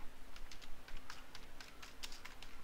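Quick, light keystrokes on a computer keyboard while entering code for a Joomla 2.5 component, an uneven run of close clicks over faint background hum.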